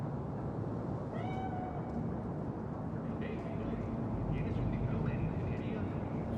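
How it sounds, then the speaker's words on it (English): A cat meows twice in the video game Cyberpunk 2077, a short rising call and then a longer drawn-out one, heard over a dense low rumbling game ambience. "Chill, just a cat."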